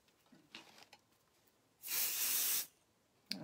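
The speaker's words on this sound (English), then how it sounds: "So let's spray some more." A single steady hiss from a spray can lasts under a second, preceded by faint handling noises and followed by a small clatter.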